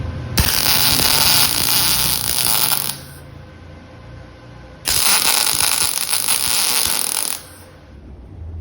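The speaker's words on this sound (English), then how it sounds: "and now I'm going to weld one on each side." A steel handle is welded onto a machinist's metal tool box in two sustained, crackling bursts of about two and a half seconds each. A quieter pause with a low hum separates them.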